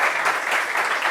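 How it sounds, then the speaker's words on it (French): An audience claps in a brief, dense burst of applause that runs evenly throughout without voices over it. "Faut signifier, faut applaudir ça quand même."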